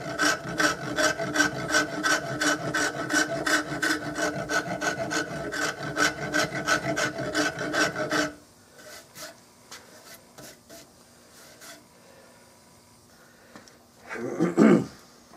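Rasp shaping a wooden stock for a Remington 788 rifle: steady rhythmic rasping strokes for about eight seconds, then quieter faint scraping and a louder rub near the end, close by with no talk.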